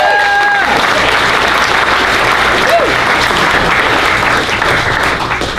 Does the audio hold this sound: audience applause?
yes